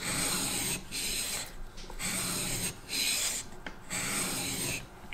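A skew chisel is rubbed back and forth on a sharpening stone, working the hollow grind on the flat side. The close, steady scraping rasp comes in about four even strokes separated by brief pauses, with no voices.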